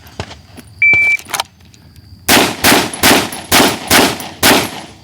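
Six sharp pistol shots crack in a quick, evenly spaced string during a low-round shooting drill, loud and close, preceded by small handling clicks and a beep.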